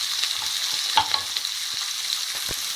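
Onions frying in a pan, a soft steady sizzle close by with a few light stirring taps and scrapes, no voices.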